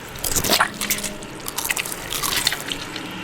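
Someone bites into a crunchy yet soft food and chews it close up, with several wet, squishy crunches in quick bursts and no talking.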